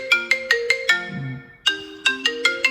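The iPhone default ringtone, bright and marimba-style, plays loud and close, a quick run of plucked notes, a short pause, then the melodic pattern repeats.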